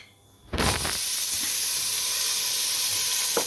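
Onions dropped into melted sugar in a hot pan for pasta primavera hit with a sudden loud sizzle that settles into a steady, close hiss.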